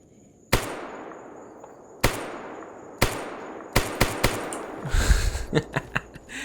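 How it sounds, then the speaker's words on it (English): Pistol shots ring out in Escape From Pripyat as suppressing fire, a few spaced loud cracks with long decaying tails, then quicker shots that blur into a cluttered flurry near the end. "It's cheap ammo, I can afford to... do some suppressing fire, as it were."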